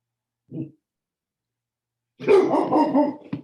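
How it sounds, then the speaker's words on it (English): A dog gives a short single bark, then a longer, louder run of close barking with a growly edge, heard indoors with no talk over it. "That's a dog"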